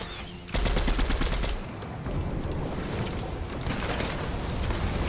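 Rapid automatic gunfire from a video game, loud, close and nearly continuous bursts of shots with no pauses, carrying on for several seconds.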